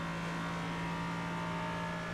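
Race car engine held at high revs in 5th gear in a racing video game, a steady loud drone with a constant pitch and no audible shifts throughout.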